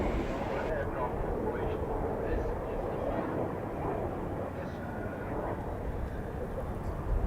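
A Kestrel aircraft at Farnborough Airshow 2008 with its landing gear extended, turning in to land, giving a broad steady roar of jet engine noise that persists throughout while a commentator talks over it.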